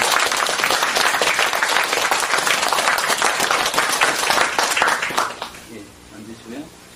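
A crowd at a Won Buddhist gathering gives sustained, loud applause for a new ordination candidate, dense clapping holding for about five seconds before fading out under quiet murmuring.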